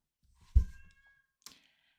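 A cat gives a brief meow after a soft, dull thump, then a faint short second cry, close and quiet with no talk.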